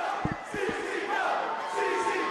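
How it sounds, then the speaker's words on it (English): A wrestling crowd at a CZW show yells and cheers in a sustained roar, with a few sharp thuds early on and the noise swelling slightly toward the end. "And listen to this crowd!"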